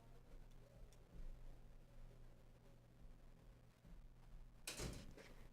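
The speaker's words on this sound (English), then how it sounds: "let me shut my door." An interior room door pushed shut, one brief solid thud near the end, with faint room noise and a low steady hum leading up to it.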